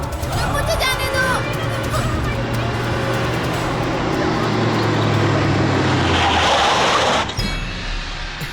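A car drives with a steady road rumble and engine drone that swells toward the end, then drops off abruptly, with people talking over the noise.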